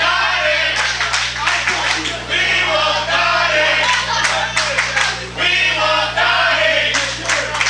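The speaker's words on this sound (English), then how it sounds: "Crowd chanting, "We want Donnie."" A wrestling crowd at a CWF Mid-Atlantic event chants "We want Donnie" in loud, rhythmic bursts, with clapping and cheering filling the hall throughout.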